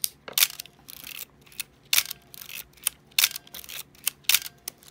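Film advance lever on a Yashica FX-3 film camera being wound repeatedly, giving close, crisp ratcheting clicks in a quick uneven rhythm of about eight strokes with short pauses between.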